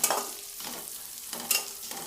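Sliced onions and cumin seeds frying in oil for jeera rice, a close crackling sizzle that swells with each stir of the spoon, with no voices.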